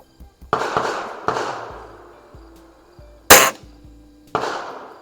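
A Crosman Optimus break-barrel spring air rifle fired at an outdoor range, five or so sharp cracks spaced a second or more apart, each with a short ringing decay and quiet handling noises between.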